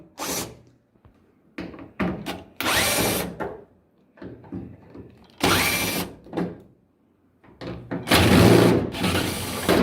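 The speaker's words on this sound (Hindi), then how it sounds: "इनको खोलना हमें स्क्रू ड्राइवर से खोल लेंगे। मशीन यूज कर रहा हूँ।" A power screwdriver backs screws out of a hydraulic motor during a Maplin VC90 repair, whirring in several loud, separate bursts of a few seconds each with short quiet gaps and light handling clatter between them.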